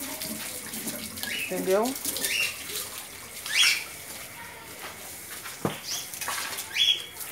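Tap water runs steadily while a pet's drinking water is changed, with birds chirping and brief clinks around it, and a person speaks briefly over the flow.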